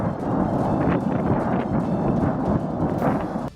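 Deep rumbling booms from explosions at an ammunition depot rolling continuously, like distant heavy explosions echoing, a dense low roar with no clear gaps.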